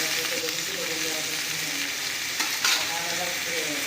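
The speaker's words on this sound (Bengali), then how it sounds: "দেখো রুগড়াটা খুব ভালোভাবে আমাদের ভাজা হয়ে গেছে" Rugda mushrooms fry in a pan with a constant, steady sizzle, stirred now and then with a brief scrape, close and even throughout.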